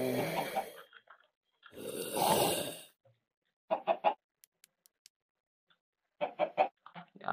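A baby chicken in Minecraft clucks in two short bursts of rapid clucks, each separated by quiet gaps with faint ticks, following louder broadband noise at the start.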